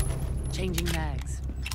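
A weapon magazine is changed in a video game: a short run of close metallic clicks and jangles plays over a steady low background hum, with a brief voice-like sound in the middle.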